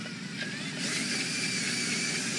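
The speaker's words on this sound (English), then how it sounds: "Not bad for a cordless drill motor moving this much weight" A cordless drill motor drives a small prototype tractor through a CVT, giving a faint, steady electric whine with a soft mechanical hum underneath, continuous and without talk.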